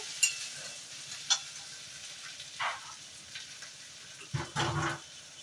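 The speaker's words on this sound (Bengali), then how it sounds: "তেল ছেড়ে দিয়েছি, এবার এটাতে পোস্ত দিয়ে দেবো" Poppy seed paste frying in hot oil while being stirred, giving a low, quiet sizzle with a few scattered scrapes and one louder burst of stirring near the end; no voices.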